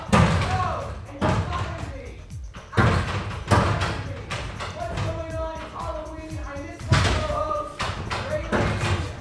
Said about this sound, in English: there's some man banging on the door